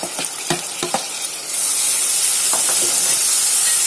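Chopped tomatoes stirred into a hot pan for a mango chicken curry, giving a few scraping stirs followed by a loud, steady sizzle and hiss of frying that continues without any talking.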